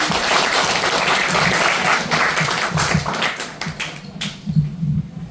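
A crowd at a small business association gathering applauds after a lecture ends, a loud, dense patter of clapping that holds steady and then tapers off into a few scattered claps near the end.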